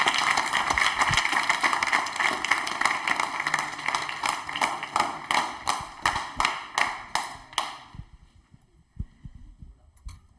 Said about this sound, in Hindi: अध्यात्म के लिए तालियां एक बार जोरदार होनी चाहिए